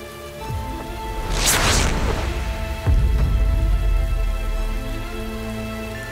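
Steady rain falls in a scene from a Chinese period drama, an even patter under soft musical tones with a brief whoosh and a low thud partway through.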